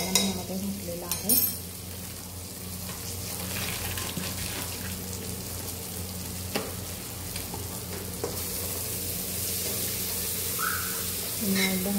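Soybean pulao with biryani masala stirred in a pan, a continuous frying sizzle with scraping and clinking of the spoon across the pan and occasional sharper knocks.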